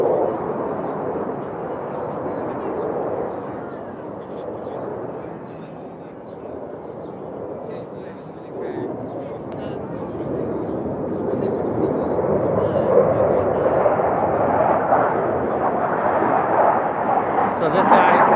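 Blue Angels jet aircraft fly past near Navy Pier with a broad, sustained roar that builds louder toward the end, while people talk nearby.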